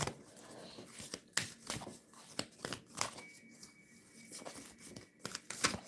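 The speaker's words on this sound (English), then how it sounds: "Give me a chance to shuffle." Cards shuffled in a series of sharp, papery riffles and snaps, clustered bursts spread over several seconds at close range, with quieter rustling between them.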